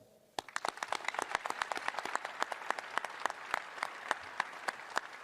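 A small crowd at a university press conference breaks into applause, a dense scatter of sharp hand claps that starts abruptly and keeps going steadily, moderately loud with a roomy feel.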